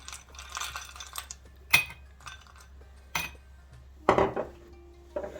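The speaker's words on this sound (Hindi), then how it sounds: "तब इसमें आइस क्यूब डालूंगी। दोनों गिलास में डाल दूंगी।" Ice cubes drop into two identical glasses while dalgona coffee is made, giving a few sharp, close clinks separated by quiet pauses, with a brief rattle as the cubes settle.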